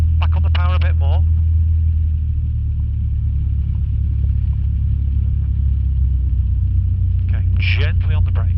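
Light aircraft engine on the ground at Netherthorpe Airfield, a steady low droning hum as power is added while taxiing, with people talking over it at the start and end.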